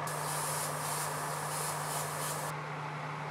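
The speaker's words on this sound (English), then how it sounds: "And then sprayed from the top with white." An airbrush or spray can hisses steadily while white paint is sprayed from above onto a 3D-printed kitbashed miniature over gray primer, a continuous close loud spray that drops off abruptly near the end.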